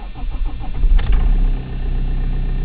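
A 2004 Toyota Corolla 2.0 D4-D diesel engine, cold, cranks briefly and catches, settling into a loud low rumbling idle close by.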